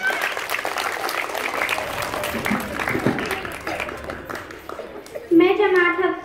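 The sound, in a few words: audience applause at school event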